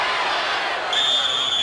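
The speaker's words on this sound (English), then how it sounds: "Crowd got into it a little bit when Goldman went back on the foot" A college wrestling crowd at an Iowa vs Iowa State dual meet roars in a dense, sustained wash of cheering that swells slightly partway through, with a whistle-like tone rising above it.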